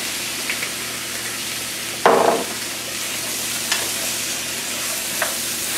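Eight ounces of button mushrooms sauté in olive oil in a pan, a continuous close sizzle broken by a few louder stirring scrapes, one sharp burst near the middle.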